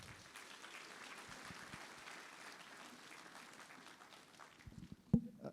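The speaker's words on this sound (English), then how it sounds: "with a warm round of applause" A university audience at a National Science Week launch claps to welcome the Vice Chancellor, a thin, fairly faint and sparse round of applause from a modest crowd that swells slightly and ends with a sharp thump.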